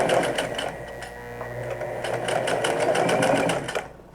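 A sewing machine runs steadily while top stitching fabric, its fast, even needle chatter sounding close and continuous for about four seconds before stopping abruptly, with no talking.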